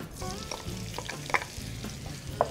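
Sliced onion hits hot oil in a pan for Kung Pao chicken, giving a brief, steady sizzle with a few clinks and stirring knocks, close and fairly loud, no voices.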